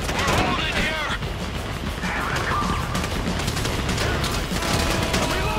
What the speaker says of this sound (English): You hear that gun?